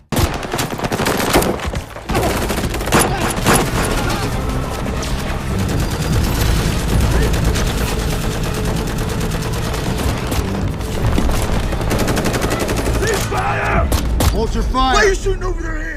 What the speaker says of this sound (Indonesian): tanpa disengaja, tembak-menembak pun terjadi